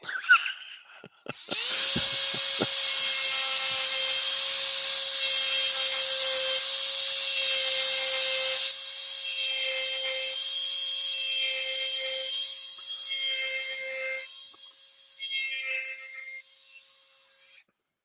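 A Dremel rotary tool spins up after a few clicks into a loud, steady high-pitched whine, then drops in pitch and level as it runs on before winding down, no talking.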